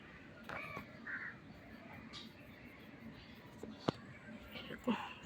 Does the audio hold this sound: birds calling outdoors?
yes